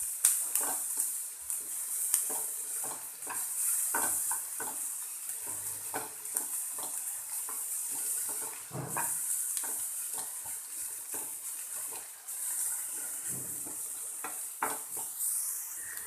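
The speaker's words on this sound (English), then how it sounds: "I'll just saute it a bit. Just a light saute I'm going to do." Vegetables given a light sauté in a pan for a vegetable cheese sandwich, a soft hiss of frying broken by frequent scrapes and clicks of stirring, fairly quiet and close.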